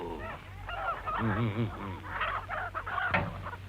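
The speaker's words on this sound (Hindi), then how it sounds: "रोको मुर्गियों को रोको" Chickens cluck and squawk in a busy street scene in a Hindi comedy film, loud and near, mixed with voices shouting over a low vehicle rumble.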